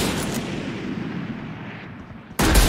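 A loud gunshot blast with a long decaying rumble in the video game Valorant, and a second sharp shot cutting in near the end.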